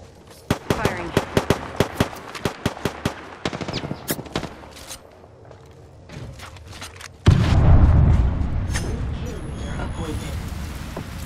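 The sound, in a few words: gunfire in the video game Apex Legends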